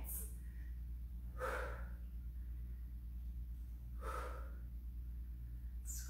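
Loud, deliberate breaths during an exercise circuit, two or three forceful huffing exhales spaced a few seconds apart over a steady low hum, with no talking.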